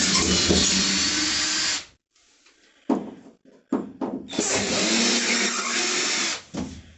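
A power tool removes screws from the interior panels of a 2019 Peugeot Boxer van, running in two long, loud, close whirring spells with a few short bursts and pauses in between and no talk.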